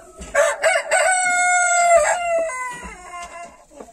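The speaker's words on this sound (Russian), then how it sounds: "Петух у них очень любвеобильный." A rooster of the Chinese Xin Xin Dian breed crows loudly and close by, one long drawn-out call with a few clucks before and after.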